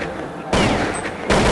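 Automatic gunfire in the Counter-Strike match between fnatic and Again at the WCG 2009 grand final, two loud sustained bursts of rapid shots, the second starting after a short gap.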